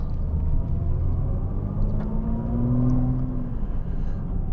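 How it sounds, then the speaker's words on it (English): A Nissan GT-R R35 Nismo drives on the track at Fuji Speedway, its engine a steady, close, rumbling drone heard from inside, with revs gradually rising and falling. "heading out on track for what will probably be my last laps ever in a Nissan GTR R35"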